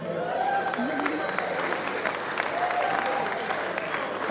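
An audience at a Nigerian stand-up comedy show claps and cheers in a dense, continuous burst, with sharp individual claps standing out from the crowd noise and a few voices calling out underneath.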